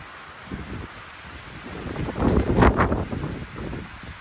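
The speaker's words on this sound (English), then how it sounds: "it's kind of windy at the moment, but it's blowing from that direction, blowing out" Wind gusts buffet the microphone, building into a louder roaring rush in the middle before easing back to a steady low bluster.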